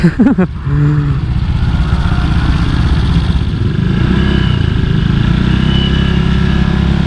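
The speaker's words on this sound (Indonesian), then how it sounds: "knalpot CMS generasi 2. Kalian udah sering lihat ini di Vario, dan suaranya juga enak" Close Honda Vario scooter engine with a loud CMS generation 2 aftermarket exhaust, a brief rev at the start settling into a steady, throbbing idle.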